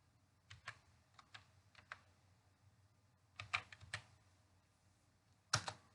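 Computer keyboard typed on while entering data in Tally ERP.9 accounting software: a few quiet, irregular clusters of key presses in a hushed room, ending with one sharper keystroke.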